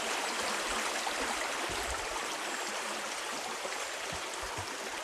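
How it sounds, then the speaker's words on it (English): River rapids rushing at Pintail Marsh near Jefferson, Oregon, a dense steady roar of churning water, close and constant throughout with no voices. "We're going to take you and get you a little closer to the rapids."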